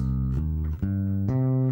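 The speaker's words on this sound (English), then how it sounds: "And then the arpeggio would sound like this." Three low plucked notes of a minor arpeggio on bass guitar ring one after another in a slow stepped pattern, each clear and sustained, played alone.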